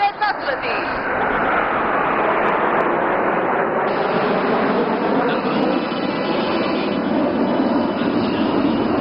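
Indian Air Force Suryakiran aerobatic team jets fly overhead at the Aero India 2025 air show in Bangalore, a loud, steady, broad engine roar sustained for the whole stretch, with a faint voice beneath it.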